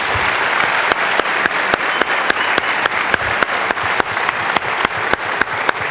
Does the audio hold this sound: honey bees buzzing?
no